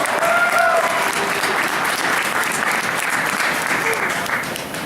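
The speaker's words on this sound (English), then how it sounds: "we get a big round of applause for Eric Lepp, our maintenance manager here" Loud, steady applause from a tour group in a Cedar Point amusement park maintenance shop during a winter tour, greeting the maintenance manager, continuous clapping with faint voices mixed in before it tapers slightly at the end.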